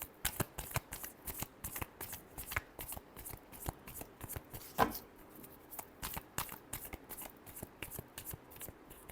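Tarot cards are shuffled by hand in a rapid run of crisp, close riffling snaps, repeated in rhythmic bursts with one sharper slap midway, quiet and without talk.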